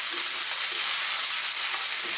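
Red onion fries in a hot wok for a chicken stir fry, giving a steady, loud, close sizzle with faint stirring under it and no voices.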